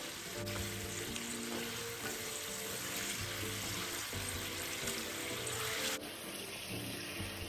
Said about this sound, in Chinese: 一起拌炒均匀